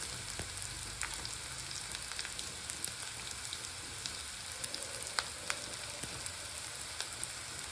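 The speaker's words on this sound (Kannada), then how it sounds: "ಇದು ಹಾಗೆ ಒಂದು ಸ್ವಲ್ಪ ಎಲ್ಲ ಫ್ರೈ ಆಗಲಿ ಅಂತ ನಾವು ಮಿಕ್ಸ್ ಮಾಡೋಣ" Onion, garlic and ginger fry in oil for a village-style country chicken curry, a soft continuous crackling sizzle broken by occasional scrapes and clicks as the pan is stirred.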